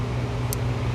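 Steady low engine drone and road rumble inside a moving car with a dealer-damaged engine, a continuous even hum with one brief high click midway.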